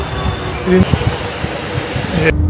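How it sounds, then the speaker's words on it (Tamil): A Melbourne metro train pulls into a station, with rumbling wheels, a brief metallic squeal and clanking, fairly loud and close, ending in a sudden cut. "ட்ரெயின் வந்துச்சு பாருங்கள்"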